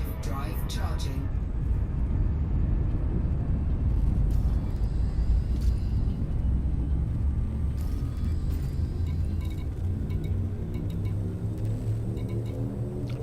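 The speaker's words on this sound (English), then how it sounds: "Frameshift drive charging." A frameshift drive charging in the space game Elite Dangerous: a loud, steady low rumbling hum that builds and holds for over ten seconds, with a voice speaking over it.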